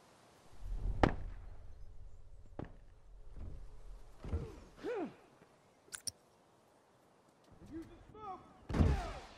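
Silenced Frontier Rifle pot shots in a video game: a few sharp, muffled shots spaced several seconds apart, mixed with ambient game sounds while someone talks.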